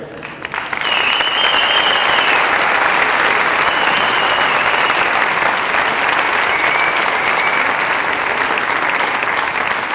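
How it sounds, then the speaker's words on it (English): A big conference audience gives the event team a strong, sustained round of applause, loud and dense from the first second and holding steady for the full length, with a few whoops and whistles above it. "big round of applause for everyone here"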